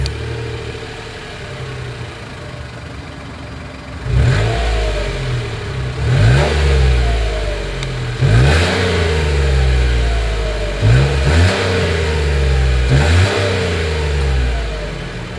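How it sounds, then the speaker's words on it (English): Exhaust of a 2022 Mitsubishi Mirage G4 with its small engine, idling steadily and then revved repeatedly in about five short throttle blips, loud and close with no talking. "As always, here is that exhaust clip."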